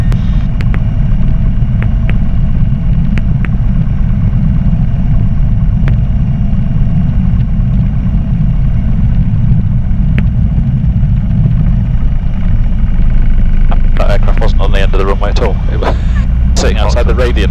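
A light aircraft engine roars steadily and loud through a takeoff roll on a runway, a constant low drone with radio chatter and a voice breaking in near the end.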